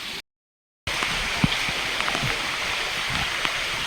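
Monsoon rain falls steadily at Lohagad Fort, a dense close hiss with scattered drips and patters, after a brief gap of silence at the start.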